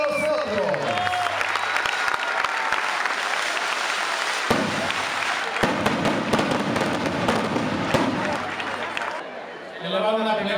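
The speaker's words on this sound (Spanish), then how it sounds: "Y el aplauso de todos nosotros." Crowd applause at a bullring inauguration mixed with bursts of fireworks, sharp cracks and pops over continuous clapping, with a voice audible and a tonal sound at the start and end.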